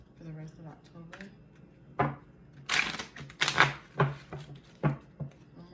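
Cards are shuffled in a few quick riffling bursts, close by, with soft tapping and handling sounds between them.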